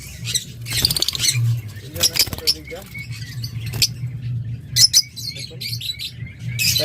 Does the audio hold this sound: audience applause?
no